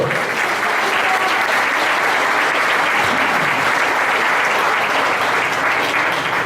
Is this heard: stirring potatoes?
no